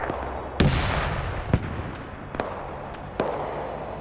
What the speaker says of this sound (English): I think this anti-tank gun's now firing